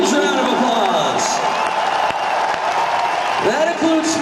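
A concert crowd at a live show in Toronto applauds and cheers the road crew, a dense, loud wash of clapping and whoops mixed with voices throughout.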